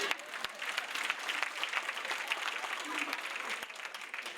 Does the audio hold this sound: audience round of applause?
yes